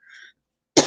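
A woman coughs once, a short, sharp burst close to the microphone after a brief faint tone, with no other talk.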